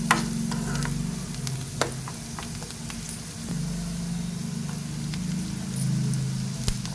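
Poha upma tempering frying in a pan, Telangana style, with a steady close sizzle and occasional sharp clicks and scrapes of stirring throughout, no voices.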